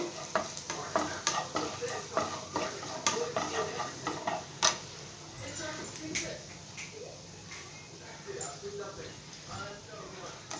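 Dry fruits for malai laddu fry in a pan, giving a soft continuous sizzle broken by sharp ticks and scrapes of stirring. Light clatter from the cookware comes and goes throughout.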